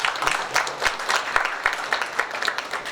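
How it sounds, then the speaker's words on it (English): Sustained applause from an audience at a health talk on lifestyle disorders, greeting invited doctors as guest speakers, with dense steady clapping filling the room throughout. "A big round of applause for all of them."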